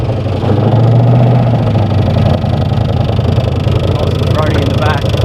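A Holden 308 V8 engine fitted in a Jaguar XJ6, running on its first start in ten years: a loud, close, rumbling idle that holds steady throughout.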